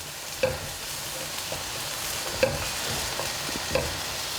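Food sizzling steadily as it browns in a frying pan, a moderate, even crackle with occasional light taps of a utensil against the pan at irregular intervals.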